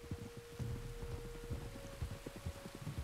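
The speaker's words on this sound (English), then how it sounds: "You were right about the damn rain." Steady rain falls in the Red Dead Redemption 2 video game, a continuous hiss of drops with soft low patters and a faint hum beneath, close and even throughout.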